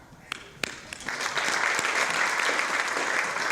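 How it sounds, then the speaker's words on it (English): An audience at a community forum breaking into applause, beginning with a few sharp claps and swelling into dense, sustained clapping that stays loud and steady. "I know that's a lot of clapping"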